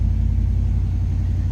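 A 1972 Chevrolet Chevelle Heavy Chevy idles right up close while warming up, a loud, steady low-pitched rumble with an even mechanical throb and no voices over it.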